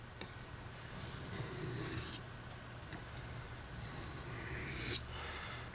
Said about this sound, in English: polishing the edge of the blade. It's polishing the bevel, refining it from that coarse India